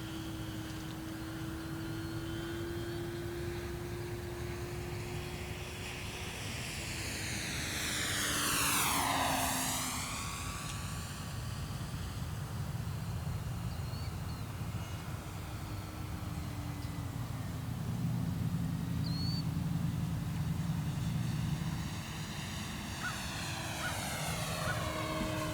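An FMS Curtiss P-40B Warhawk RC scale model plane, 1400mm, drones through a 360-degree turn, its propeller engine a steady buzz that swells and dips in pitch as it swings past, with no one talking.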